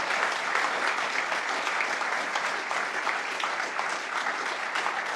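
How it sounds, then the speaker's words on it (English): An audience applauds the mayor at a public event in Poughkeepsie announcing lead pipe replacement, with steady, dense clapping that holds without a break from start to finish. "Let's give our mayor another round of applause here."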